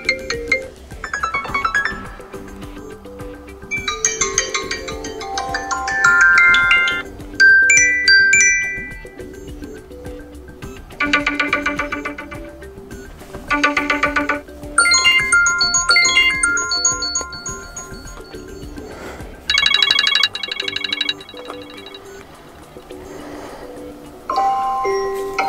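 Standard ringtones play on an iPhone 12 Pro, a series of bright electronic melodies and chimes in short bursts with brief gaps between them, clear and close, with no voice.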